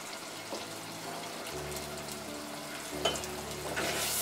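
Onion paste frying in a mustard-seed masala for drumstick curry gives a steady, moderate sizzle and crackle, swelling slightly near the end, with no talking.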